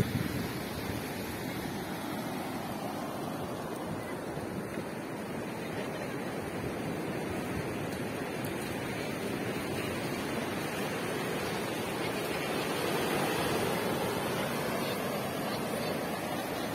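Ocean waves wash onto the sand at Quatro Ilhas beach in Bombinhas, a steady broad roar of surf with gentle swells, rather loud and continuous, with some wind rumble on the microphone.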